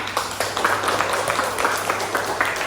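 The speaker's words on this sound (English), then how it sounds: "Can you give the applause for Tata?" Applause for a student in a Grade 12 lesson on circles: a small classroom group clapping in a steady, moderately loud patter that carries evenly through the clip.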